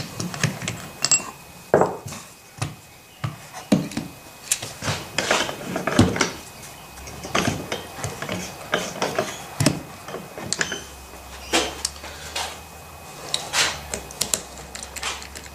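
An Audi V8 starter motor being taken apart on a bench: scattered metallic clicks, taps and clinks of tools and parts, close and irregular, with brief pauses between handling sounds.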